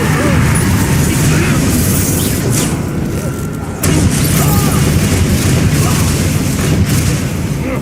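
Repeated booming blasts from the Bombarda explosion spell in the video game Hogwarts Legacy, loud and dense, layered over continuous combat noise.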